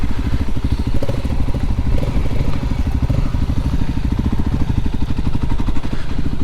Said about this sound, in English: It's got a little bit of a nicer sound to the exhaust.